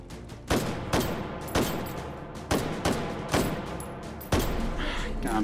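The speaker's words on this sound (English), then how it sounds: "I'm just gonna shoot at you." Gunshots from the VR shooter Hot Dogs, Horseshoes & Hand Grenades on an abandoned port map, seven loud sharp reports at uneven intervals, each with a short echoing tail.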